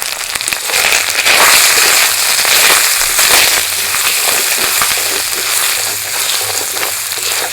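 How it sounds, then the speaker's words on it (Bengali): Dense, loud crackling sizzle of spices frying in hot oil for a vegetarian chana dal, continuous popping spatter close up throughout with no voices. "মশলা ভাজা হয়ে গেছে"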